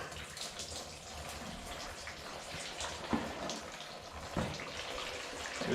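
Antifreeze drains from the removed radiator of a Minneapolis Moline A4T tractor into a pan below, a steady trickling pour with occasional soft splashes and drips.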